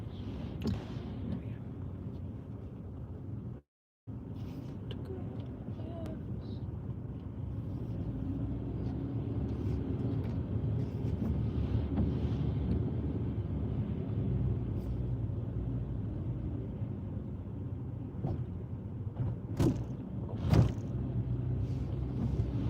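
Steady low engine rumble of a driving-school car pulling away and leaving a car park, continuous and close from inside the cabin, with a brief dropout near the start and a few faint clicks later on.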